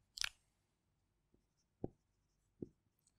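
Chalk or marker strokes on a board during a mathematics lecture, one scratchy stroke followed by three short taps, spaced apart and fairly quiet.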